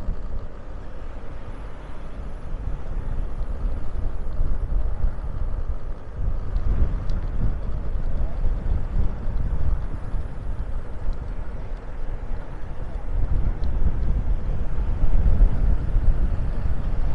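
Strong wind buffeting the microphone outdoors in Maspalomas, Gran Canaria, a steady low roaring rumble with gusts swelling louder throughout, no voices.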